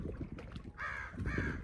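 A raven or crow gives two harsh caws, fairly near, over a low rumble of outdoor background noise on a canoe camping trip.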